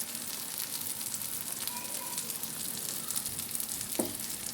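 Dal fry sizzling steadily in a hot pan as fresh coriander leaves go in, a continuous close crackle with a brief clatter near the end.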